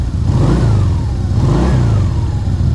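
BMW R1200CL motorcycle engine with an aftermarket Nudge exhaust pipe, giving a deep, loud, close exhaust note that rises and falls in two repeated revs over a steady idle, with no voices.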